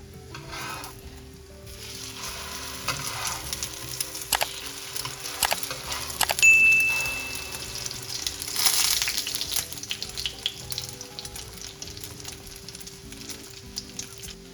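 Shami tikki, dipped in beaten egg, sizzle in hot oil in a home kitchen pan, a steady soft crackle with occasional clinks and stirring sounds, close and moderate in volume.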